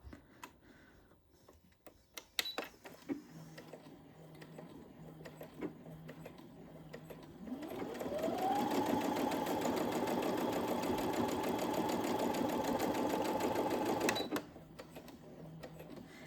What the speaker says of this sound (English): we're just going to bring that over to the machine and sew that quickly